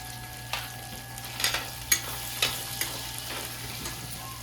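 Tomatoes with turmeric fry in a pan for paneer masala curry, giving a steady sizzle with a low hum underneath and a few soft scraping stirs.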